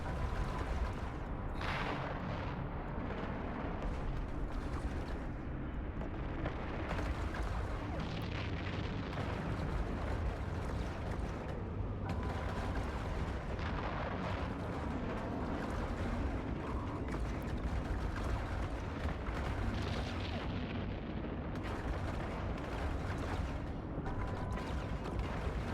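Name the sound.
spaceship weapons firing at an enemy in the video game EVE Online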